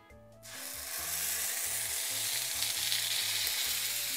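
Veal shank hits hot olive oil over a strong fire and erupts into a loud, steady, close sizzle that holds without a break, with no voices.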